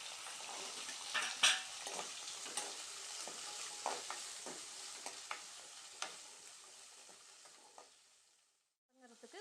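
Small onions and curry leaves fry in a pan for a garlic-onion kulambu, a steady close sizzle with a few sharp stirring clicks, dying away abruptly near the end.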